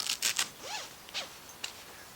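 A single zipper on a tent door is pulled in a few quick, raspy strokes close up, with short pauses between pulls, on a small expedition tent being pitched.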